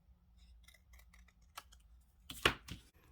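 Scissors cut through paper card for a twisted double greeting card: faint, crisp snips in a quiet room, ending in one louder, sharper cut near the end.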